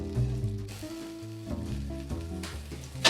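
Shallots and Worcestershire sauce cook gently in a pan over low heat, giving a soft, steady sizzle close by, with light stirring and a brighter hiss near the end, under a faint tonal background.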